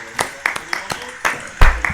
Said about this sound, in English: Round of applause again one time.